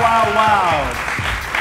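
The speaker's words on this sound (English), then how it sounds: "Give yourselves a round of applause for being here." An audience at a live CompUSA show applauds and cheers under a host's excited, drawn-out voice, the clapping blending into crowd noise.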